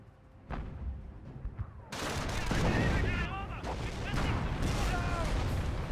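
Company of Heroes 1 battle with a Tiger tank: sharp gunfire and heavy shots crack out, then a dense, loud barrage of weapons fire, explosions and rumbling action continues without a break.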